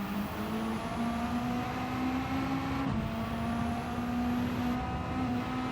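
A race car in Gran Turismo 7 runs on a dirt course, its engine droning loudly and steadily with continuous gravelly road noise and small pitch shifts as it powers out of a corner.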